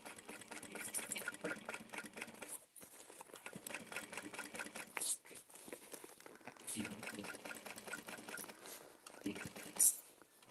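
Sewing machine running a quarter-inch seam allowance while finishing a Dreamer Pack at night, quiet stitching bursts with a few short pauses.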